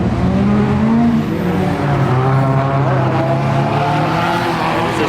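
A drift car with a turbocharged Nissan SR20 engine at Meihan Sportsland during Kansai All Star Osaka qualifying, its engine screaming loud and close at high revs with rising and falling pitch and tire noise, filling the whole moment.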